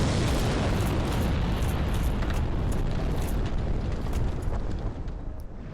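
Bombs exploding in the video game Dark Souls, a dense, loud barrage of booming blasts and rumbling bursts layered continuously, easing slightly toward the end with no talk.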